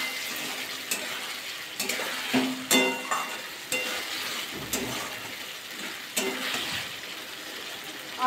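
Brinjal frying in a poppy seed masala is gently stirred in a pan, giving a soft steady sizzle with intermittent scraping and clinking of the spoon across the whole stretch.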